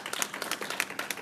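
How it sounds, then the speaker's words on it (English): Audience applause at an MTA news conference, a steady patter of many hands clapping at moderate distance, fairly quiet and without talk. "You're giving yourselves a round of applause"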